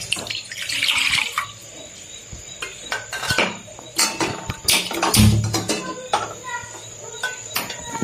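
Water poured into a kadhai for boiling in a home kitchen, splashing and trickling in uneven bursts with clinks and clatter of utensils and a faint steady insect-like whine in the background.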